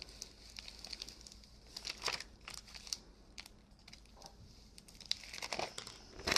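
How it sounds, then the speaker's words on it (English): Transfer tape peeled off sign vinyl for a door sign, giving quiet, close crinkling and tearing rustles in uneven bursts, with short pauses between pulls and no talk. "I'm just holding back on the string while I peel this tape up."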